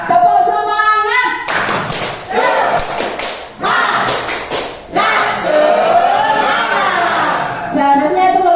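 A class performing rhythmic 'tepuk semangat' clapping, bursts of loud, patterned hand claps and slaps in quick sets, mixed with voices chanting and chatter, close and lively.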